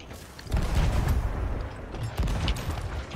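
Loud booming blunderbuss fire in Sea of Thieves, with a heavy burst of shots near the start and another blast about two-thirds through, thick low rumble throughout.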